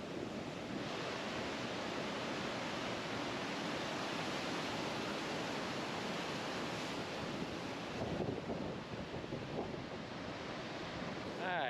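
Ocean surf at Surfers Beach, Puerto Rico, a steady broad roar of breaking waves with wind buffeting the microphone, constant and fairly loud throughout with no talk.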